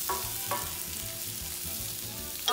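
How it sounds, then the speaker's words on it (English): Garlic, mushrooms and prosciutto frying in a pan, a steady close sizzle with a few quick scraping stirs. "Give it a quick stir."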